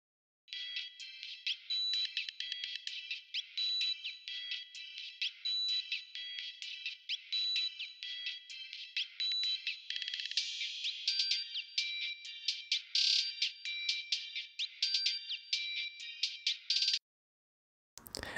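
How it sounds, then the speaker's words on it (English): Band-limited slice of a mixed track isolating the upper mids, where crash cymbal wash and the bright crack of snare hits dominate, dense and continuous for about seventeen seconds before a short gap and a final burst. "you could hear that crash cymbal and also the higher end of that snare"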